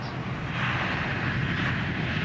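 Airliner engines roaring at takeoff thrust during the takeoff roll, heard from the cockpit as a loud, steady, broadband rumble with no talk over it.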